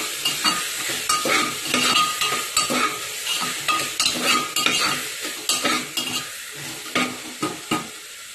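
Chickpea dal with spice mix being stirred in a pan, a steady run of rhythmic scraping strokes over a continuous sizzle, close and fairly loud, with no talking.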